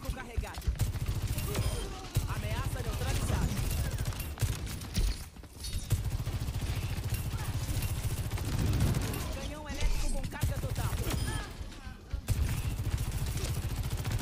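Gunfire in the video game Overwatch 2 plays on as repeated shots over a dense, steady wash of game audio that stays loud throughout.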